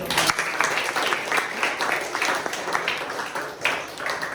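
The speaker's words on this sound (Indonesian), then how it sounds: "untuk itu tepuk tangan dulu" A class of people in a classroom claps together in sustained, steady applause for several seconds, fairly close and lively.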